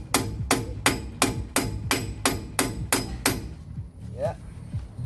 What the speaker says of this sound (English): Right, with the hammer.